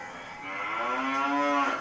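Cow mooing sound effect from a video-editing sound library, one long drawn-out moo that rises and swells before fading, clear and close with no other sounds.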